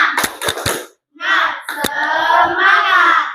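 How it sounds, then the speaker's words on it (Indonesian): A group of students claps a quick rhythmic pattern of sharp beats in a classroom, then a voice speaks briefly; a few more claps punctuate the talking. "Oke, tepuk semangat."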